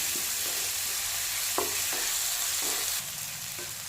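Chopped tomatoes fry in a pan with a steady, loud sizzle, broken by a few soft scrapes as a spoon stirs them, the hiss dropping a little toward the end.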